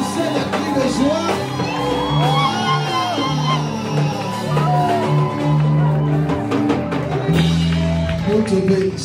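A church congregation at a French-language worship service shouts and cheers for joy, loud and sustained over music and overlapping voices for the whole stretch.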